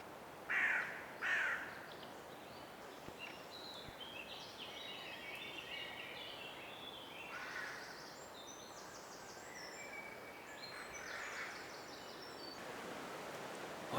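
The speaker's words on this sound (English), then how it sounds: "it's nice to see there are a few birds coming to the feeder" Birds at a garden feeder make a couple of loud, harsh crow-like caws early on, then scattered fainter calls and rustling continue over steady outdoor background noise.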